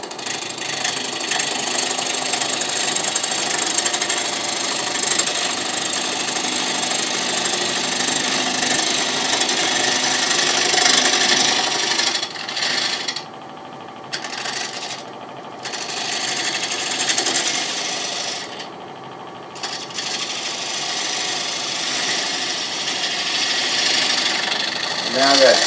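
A wood lathe hums steadily while a tool scrapes and trims a spinning wooden bowl, cutting a slight dovetail, with brief pauses and changes in the cutting noise.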